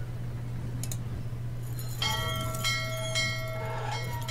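A bell rung in the Syberia video game sounds twice as bright, ringing metallic tones that sustain and decay over a steady low mechanical hum, close and fairly loud, with no talk.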